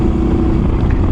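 A motorcycle rides solo at midnight on a mountain highway route toward Cameron Highlands, its engine a loud, steady, close droning rumble with constant wind roar and no break.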